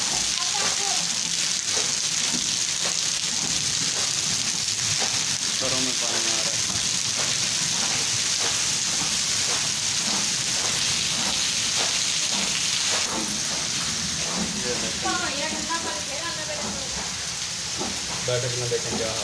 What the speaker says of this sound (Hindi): बारिश देखे कैसे हो।